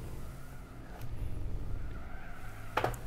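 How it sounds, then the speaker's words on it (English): Rally car in the Gran Turismo 4 game on a Rally d'Umbria course, its engine droning steadily with skidding tire noise, then a sharp burst of impact noise near the end as it slams into a wall. "He's just gone flying into the wall."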